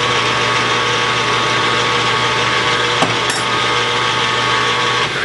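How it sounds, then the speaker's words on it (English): A machine cuts a burr along the top of a groove with a continuous, loud, close whine and hum, and a brief click breaks in near the middle. "I'm going to burr the top of the groove."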